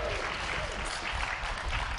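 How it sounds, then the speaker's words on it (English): An indoor conference audience applauds a panel of niche food bloggers, a dense burst of clapping with a few cheers that holds steady throughout. "give it up for the, for the foodies"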